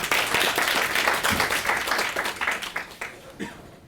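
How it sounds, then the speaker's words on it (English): Audience applause at an energy engineering university seminar, a dense sustained patter of many hands clapping that holds steady, then thins out and fades toward the end. "Such preemptive applause."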